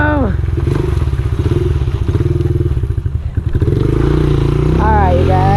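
A Honda XR 70 R pit bike engine holds a steady, loud throttle through a wheelie, its harmonic drone dipping briefly before revving back up, with a voice talking and exclaiming over it.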